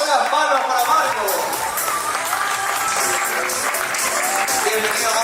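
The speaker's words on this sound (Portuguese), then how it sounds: "Fuerte las palmas para Marco." Audience applause with some cheering and shouts at an award ceremony as a recipient comes up, a broad wash of clapping that holds steady throughout.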